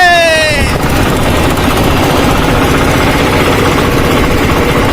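Boat engine on a river near a dam, a loud, close, continuous droning rumble with a rattling vibration throughout, a few tonal whines fading in the first second.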